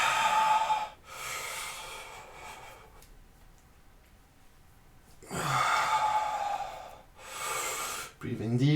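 Deep breaths during a yoga session: several long, airy inhales and exhales in separate swells, with quiet pauses between them.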